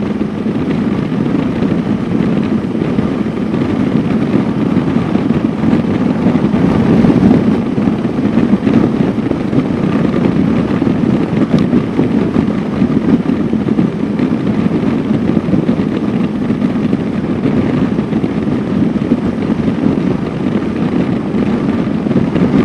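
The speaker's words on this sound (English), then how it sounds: "it is extremely windy today" Strong, steady wind buffeting a car as it drives a daily street route, a loud continuous roar and rumble of gusts over the microphone with no talk.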